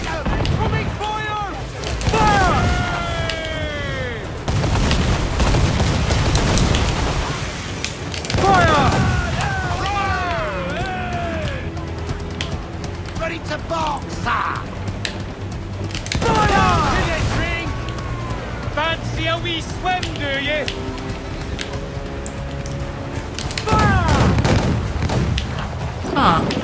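Naval cannon fire during a ship battle in Assassin's Creed IV Black Flag: repeated heavy booms and crackling volleys roll through continuous battle noise, with shouting crew voices and music layered over the barrage.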